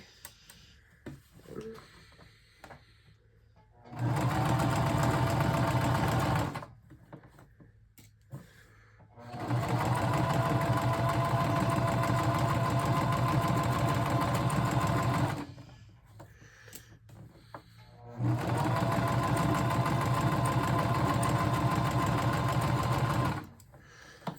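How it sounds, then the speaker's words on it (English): A sewing machine sews along the bottom of a fabric bag in three long, steady, loud runs of rapid stitching, separated by quiet pauses with faint clicks and handling. "now we are ready to sew along the bottom of our bag"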